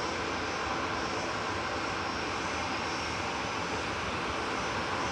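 A TUI Boeing 787-9 Dreamliner airliner at Manchester Airport gives off a steady, broad jet engine roar that stays constant and fairly distant, with no voices.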